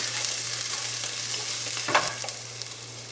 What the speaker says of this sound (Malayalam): നമുക്ക് സവാളയുടെയും ഇഞ്ചിയുടെയും പച്ചമുളകിൻ്റെ ഒക്കെ ഒരു പച്ചക്കുത്ത് പോകുന്നത് വരെ നമുക്കൊന്ന് ഇളക്കി കൊടുക്കാം.